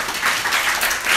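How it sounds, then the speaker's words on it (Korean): Brief burst of steady applause from an audience at a church summer retreat lecture, dense and fairly loud with no talking over it. "자, 박수!"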